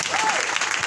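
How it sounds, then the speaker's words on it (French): A brief burst of dense, hissing crowd applause from a church congregation at a Sunday service, continuous and fairly loud for under a second. "Applaudissons."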